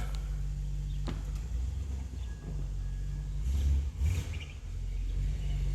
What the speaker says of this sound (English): And he's taking it for a test drive